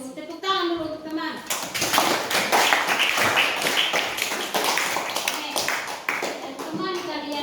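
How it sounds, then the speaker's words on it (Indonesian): Classroom students give a classmate a round of clapping, a loud burst of many hands lasting several seconds, with a teacher's voice just before and after. "Tepuk tangan dulu untuk teman."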